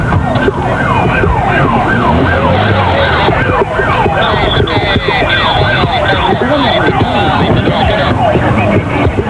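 Several police patrol car sirens wail loud and close, overlapping and steady without a break, with rumbling traffic underneath.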